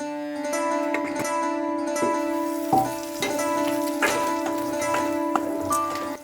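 Chicken frying in a pan, a continuous sizzle beneath a steady tonal hum, broken by a few sharp stirring clatters at regular intervals.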